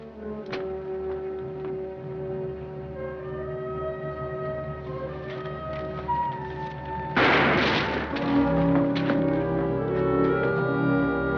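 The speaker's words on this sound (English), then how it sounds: "shooting a prisoner" A single gunshot rings out in a western TV show, a loud burst partway through over a continuous music score.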